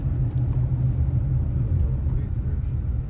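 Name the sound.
car driving through San Carlos, Panama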